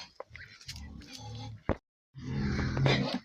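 Pigs grunting and snorting up close, rough low noises in bursts with a short pause between, while a person talks nearby.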